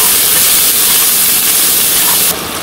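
Potatoes fry in a pan with salt, turmeric and green and dried chillies, a loud, close, continuous hiss of sizzling oil that drops slightly in level near the end.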